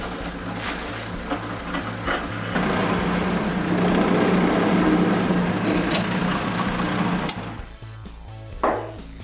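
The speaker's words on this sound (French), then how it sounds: "Je perce les trous." An electric drill bores screw holes in wooden door moulding, a steady loud whirring run that swells through the middle, then stops with a few short bursts near the end.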